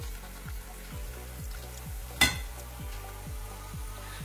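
Banana and corn fritters frying in hot oil, a steady soft sizzle broken by regular low thumping pulses and one sharp clack midway, with no talk.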